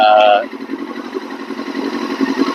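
A 2000 Yamaha R6 motorcycle engine idles steadily at operating temperature, close and continuous, with a brief higher-pitched tone at the start before the even, throbbing idle carries on alone.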